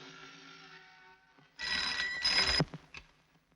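A telephone rings in a 1980s Hindi film scene, with a sustained electronic ringing tone followed by a louder burst of ringing that ends in a clunk. No one speaks.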